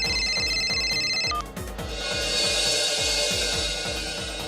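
A telephone rings with a bright electronic trill that cuts off partway, over a loud rhythmic background music track with a steady beat.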